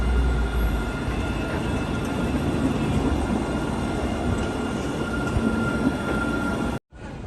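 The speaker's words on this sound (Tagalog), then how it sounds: "may parating na choo-choo train" Train passing near Bordeaux Cathedral Saint-André, a loud sustained rumble of rolling wheels with faint metallic squeal, continuous for several seconds before cutting off abruptly.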